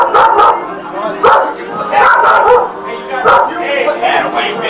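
A dog barks and yips in repeated bursts during a tense store confrontation, close and loud, mixed with excited voices and crowd noise.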